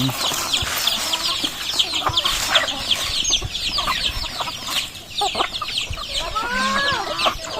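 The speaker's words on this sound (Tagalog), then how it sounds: "ay kumakain naman yung mga manok natin" Many native chickens cluck and chatter busily nearby while eating corn, overlapping short calls with occasional pecking and rustling, and a louder squawk near the end.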